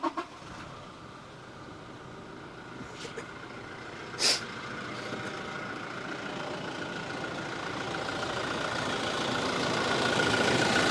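A used Toyota Innova Crysta V, 2.4 manual, cranks briefly and settles into a steady idle, its low rumble slowly growing over several seconds, with a faint clank partway through.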